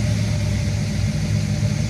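Turbocharged, nitrous-fed 3RZ four-cylinder engine running on a dyno, a loud, close, steady engine drone over a brief stretch.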